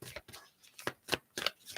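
Tarot cards shuffled by hand during a reading, a soft riffling and slapping in several quick bursts, close and fairly quiet.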